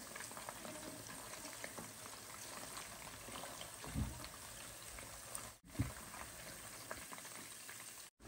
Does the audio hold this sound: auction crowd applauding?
no